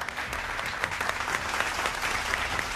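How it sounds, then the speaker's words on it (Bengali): An audience claps steadily on a cooking competition show, a dense, continuous round of applause that holds at even loudness for a few seconds. "আরেকটা হাততালি হয়ে যাক।"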